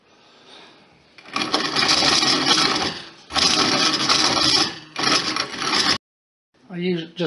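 A Wondermill Junior Deluxe grain mill grinds loudly in three long bursts with brief pauses between them. A short voice is heard near the end.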